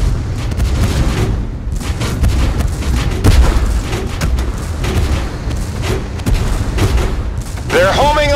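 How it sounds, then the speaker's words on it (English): Tank Force battle game gunfire, with dense, loud booms and rattling shots from tank combat rolling continuously, under a voice shouting over the action. "Gunfire!"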